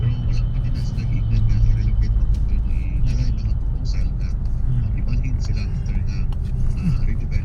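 Road traffic in Cagayan de Oro, a steady low rumble of passing cars and buses with engine drone throughout, while people talk over it.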